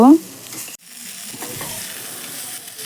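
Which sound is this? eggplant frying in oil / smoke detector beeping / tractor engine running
eggplant frying in oil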